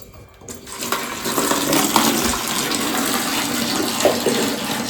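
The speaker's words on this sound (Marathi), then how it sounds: "चला बालदी भरून घेऊ आपण" Tap water pours steadily into a bucket in a home kitchen, a continuous splashing rush that begins after a brief quiet start and stays close and even throughout.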